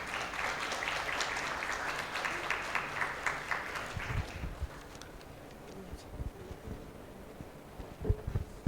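An audience claps after a presentation, dense applause for about four seconds that thins into scattered claps and faint room noise.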